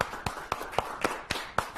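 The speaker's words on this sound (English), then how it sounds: "Give them a nice round of applause as they stand up." Sharp, evenly spaced claps, about seven in under two seconds, ring out close and distinct with no talking, as an audience gives a round of applause to people standing up.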